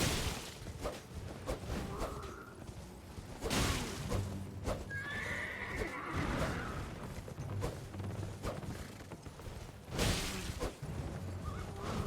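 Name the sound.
horse neighing in a video game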